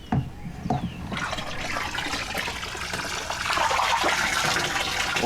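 Water from a garden hose pours into an aquaponics tank, a rushing, splashing flow that starts with a few knocks and bumps and grows steadier and fuller toward the end.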